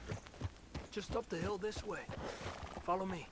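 Horse neighing and whinnying in Red Dead Redemption 2, with clip-clopping hooves underneath, heard up close while someone talks over much of it.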